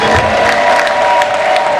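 An audience claps in a dense, continuous burst of applause that stays loud and even for under two seconds, with a murmur of crowd noise beneath.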